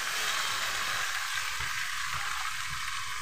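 Chicken sizzles in a frying pan with fried garlic and tomato, a loud, continuous, even hiss of frying with faint stirring underneath.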